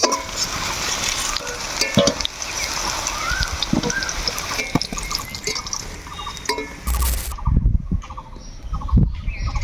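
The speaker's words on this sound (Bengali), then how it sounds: "কড়াই দিয়ে দিয়ে আছে তেল এবার শোলা কুচুলা ভালোভাবে ভাজে নিব" Sola kochu, or taro stems, fry in oil in a wok with salt and turmeric, giving a close bubbling sizzle with busy stirring scrapes and knocks that grow sparser toward the end.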